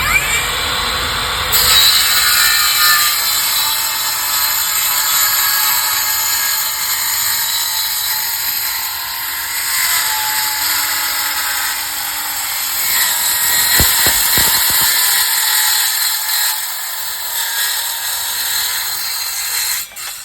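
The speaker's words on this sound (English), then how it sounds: "we're going to show you what you can do with a Cermet blade on a typical wood cutting circular saw" A wood-cutting circular saw fitted with a Cermet metal-cutting blade slices through half-inch steel beam, a loud steady high-pitched grinding whine held for about fifteen seconds before it winds down and falls quiet near the end.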